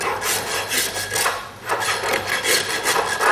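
A farrier's rasp files a horse's hoof in steady back-and-forth strokes, a loud, close, gritty scraping that repeats rhythmically without pause.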